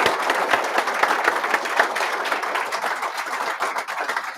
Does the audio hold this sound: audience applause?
yes